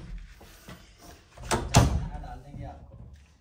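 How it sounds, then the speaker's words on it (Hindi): A household door is opened, a short clatter and thud with rattling of the latch, close by and mixed with a little background activity. "दरवाजा खोलो"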